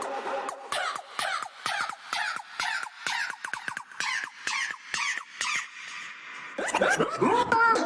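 Cartoonish Mario and Daisy voice cries from Mario Kart 8, chopped into a fast looped pattern of short squeaky yelps repeating in a steady rhythm, then bunching into a denser, louder flurry at the end.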